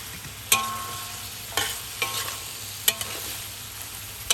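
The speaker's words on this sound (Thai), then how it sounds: "ผัดทุกอย่างให้สุกเลยค่ะ" Pork meatballs and Chinese kale stir-fried in a pan: steady frying hiss broken by a few sharp spatula scrapes and clanks against the metal, close and fairly loud, with no talking.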